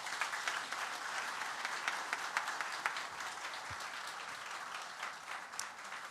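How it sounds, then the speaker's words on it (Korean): A church congregation claps warmly and steadily at a founding worship service, a soft, even applause lasting several seconds without pause. "드릴 때 우리 박수로 격려해 드립니다"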